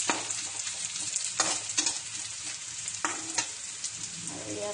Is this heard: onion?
yes